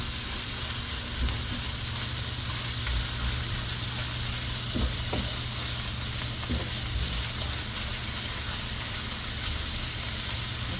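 Ground pork for chop suey fries in a pan with a loud, continuous close sizzle, dotted with faint stirring clicks throughout, no voices.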